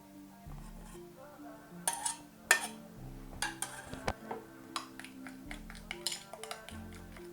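A utensil clinks and taps irregularly against a pot while green plantain banana porridge made with coconut milk is stirred, the sharp knocks standing out over a quiet, faint background.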